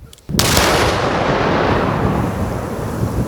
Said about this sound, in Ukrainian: Її обстежили і знищили на місці шляхом електропідриву.